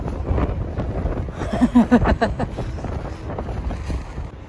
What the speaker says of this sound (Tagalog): Medyo mahangin lang. Kasi mostly talaga kapag sa dagat mahangin talaga.